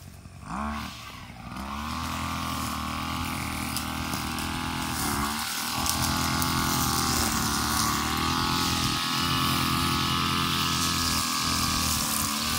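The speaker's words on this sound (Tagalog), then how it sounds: "Grass cutter yan ni Master." A grass cutter engine runs steadily and close by while mowing thick grass on a rice paddy dike in the Philippine countryside, its loud droning motor holding a constant pitch with brief surges in load.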